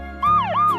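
A cartoon police car siren sounds in a short, clean electronic wail, sweeping up and down twice in quick succession, loud and close with nothing else around it.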